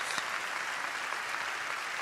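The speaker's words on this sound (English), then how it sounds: "Let's give these graduates a round of applause." Sustained applause from a large audience for graduates at a medical college commencement ceremony, a steady wash of clapping heard at moderate distance with no speech.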